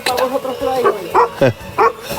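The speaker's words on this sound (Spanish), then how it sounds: "Ahora ya vienen los perros a recibirnos." Shepherd's dogs barking at a mountain herding site in Belbín, Asturias, several loud nearby barks and yelps in quick succession over about two seconds, with people's voices mixed in.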